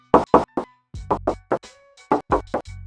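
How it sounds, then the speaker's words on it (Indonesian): Knocks on the steel hood of a used 2023 Suzuki Ertiga Hybrid, a close series of sharp hollow raps in pairs and short runs, with brief pauses between groups. "Kita coba tes ketok ya"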